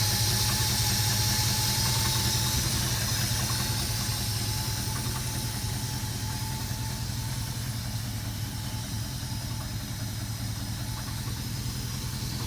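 A 1972 Ford F250 pickup with an FE 360 V8, rebuilt carburetor and electronic ignition, runs at a steady idle, a continuous close engine drone with a faint squeal, no voices.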